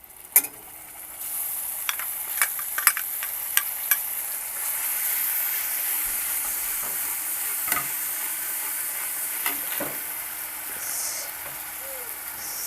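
Spice paste crackles and hisses as it hits hot oil in a wok, with a bright steady sizzle and a run of clinking utensil taps near the start, later a few softer scrapes.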